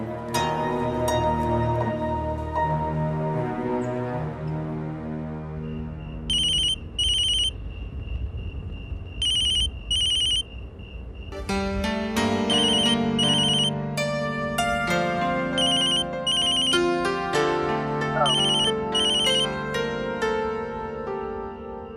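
A phone rings steadily, a repeating electronic ringtone melody with bright chiming tones, continuous and fairly close.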